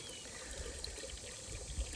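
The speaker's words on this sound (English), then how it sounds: "Currently filling water buckets." Water pouring steadily into buckets on a farm, a faint continuous trickling splash heard alone for about two seconds.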